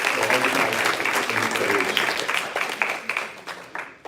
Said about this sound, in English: please give a big round of applause to Sister Purnima